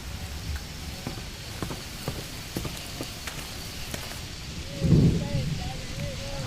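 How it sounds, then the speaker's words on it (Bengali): Steady rain pours through a rainforest, a dense even hiss with scattered drops, and a brief louder swell near the end where faint warbling tones rise over the downpour. "বৃষ্টি পড়ছে।"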